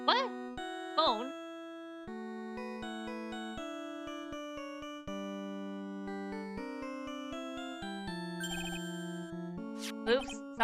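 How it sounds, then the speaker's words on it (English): A phone ringtone from the video game Phoenix Wright: Ace Attorney Trilogy plays as a bright electronic melody of clean stepped notes, steady and continuous, with a few short chirpy blips at the start and end. "What kind of ringtone is that?"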